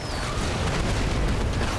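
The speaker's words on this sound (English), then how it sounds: "We're firing off nukes in every direction." Nukes detonate in the Heroes of the Storm video game, a continuous rumbling barrage of booms and blasts layered over one another, loud and dense throughout.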